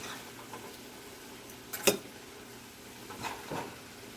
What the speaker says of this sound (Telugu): chicken fry